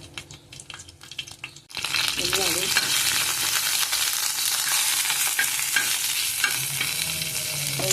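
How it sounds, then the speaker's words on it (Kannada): Chillies dropped into hot oil in a pan for a Mangalore-style gravy: quiet stirring at first, then a sudden loud sizzle that keeps going, with occasional scrapes and small pops. "ಮೆಣಸು ತೆಗಿಬೇಕು. ಅದು ಫ್ರೈ ಆಗಲಿ ಚೆನ್ನಾಗಿ."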